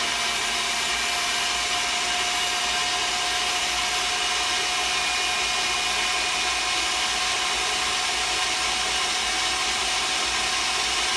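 An electric mixer whips egg whites for a lemon souffle, producing a loud, steady, unbroken motor whir close by with no pauses.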